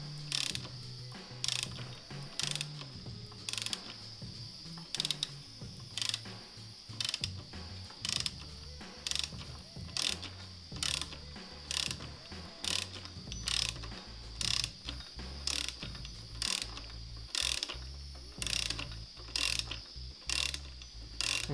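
Pulley being worked off a Lotus Europa engine: repeated sharp ratcheting clicks in a fairly regular rhythm, close and distinct, over faint background noise, with no talk.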